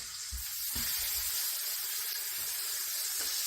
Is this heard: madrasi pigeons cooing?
no